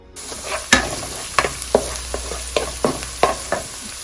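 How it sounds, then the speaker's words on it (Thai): Lemongrass and herbs being stir-fried in a pan for a pork belly dish: a soft sizzle runs underneath while a spatula scrapes and knocks against the pan in roughly ten sharp, irregular strokes, close and fairly loud. "ค่ะเราก็จะผัดไปเรื่อยๆนะคะ"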